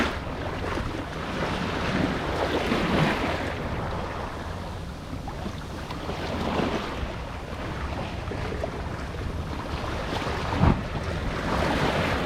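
Steady wind and rushing waves surround a sailboat underway off the Florida coast, a continuous loud wash of water and gusting air against the microphone with no talk.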